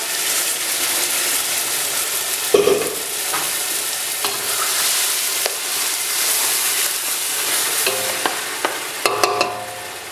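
Carrots, zucchini, ground spices and pepper frying in a pot for chicken kabsa, a loud continuous close sizzle broken by a few sharp clacks and scrapes of stirring, with no talking.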